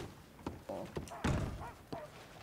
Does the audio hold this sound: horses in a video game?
yes